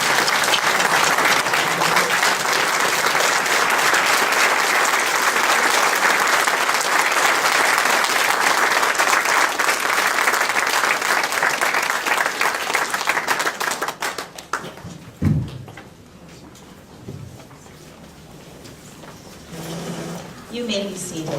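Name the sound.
standing ovation applause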